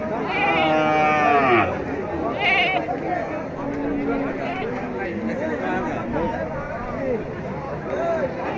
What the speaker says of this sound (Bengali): এই যে এখানে ছাগলও রয়েছে।